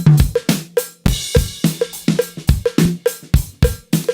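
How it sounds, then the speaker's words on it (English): A full mixed drum kit plays a steady groove, punchy kick and snare hits landing in a regular pattern with a bright cowbell ringing on repeated beats, loud and close with no voices. "let's listen to the whole kit and see what it sounds like"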